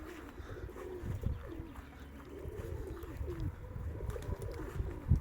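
Pigeons coo in a low, repeated rhythm close by, with faint chirps and soft outdoor background noise.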